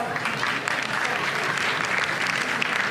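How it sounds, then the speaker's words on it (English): An audience applauds at a school cultural program, a dense, steady wash of many hands clapping at once, loud and sustained with no pauses and no talk over it. "Please give them a big round of applause."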